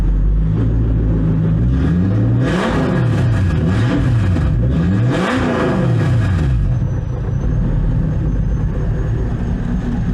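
Car engine fitted with Kelford cams revved repeatedly, loud and close, with several rising and falling sweeps in pitch between steady idling, no voices.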